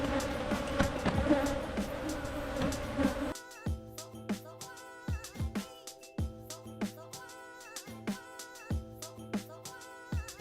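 African honey bees swarming around opened hives during a hive rebuild, a dense insect buzz for the first few seconds, then sparse droning passes and scattered knocks and clatter of hive parts.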